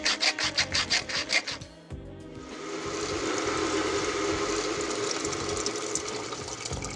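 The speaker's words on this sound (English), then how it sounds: "Grind some pepper." A pepper mill grinds pepper over a Turkish rice dish, opening with a quick run of about eight loud, crisp gritty twists, then settling into a steady, close rasping grind.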